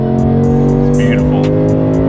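A Lexus IS 500 engine hums loud and close as it revs between gear shifts, a steady deep drone with brief rises, while voices murmur faintly in the cabin.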